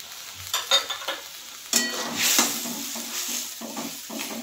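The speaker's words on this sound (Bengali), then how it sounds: "এটা দিয়ে আমি একটু নেড়ে দিচ্ছি।" A spoon stirring puti fish curry in a pan, soft sizzling with a few scraping strokes and light clinks, close and fairly quiet, alone without talk.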